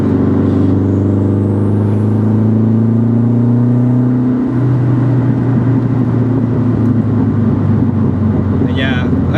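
A Renault 5 Turbo hot hatch pulls hard under acceleration, its engine drone and turbo whine climbing steadily in pitch. The engine shifts once partway through, and loud wind rushes over everything throughout.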